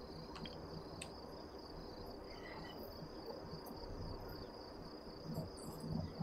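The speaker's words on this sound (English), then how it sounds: "I love the crickets." Crickets chirp in a steady, continuous high trill across a quiet nighttime landscape in American Truck Simulator, with faint ambient rustle beneath and no speech.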